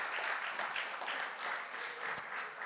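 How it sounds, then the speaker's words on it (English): An audience applauds at a documentary film premiere night, with steady, moderately distant clapping swelling and easing in waves and no voices. "just give them an applause"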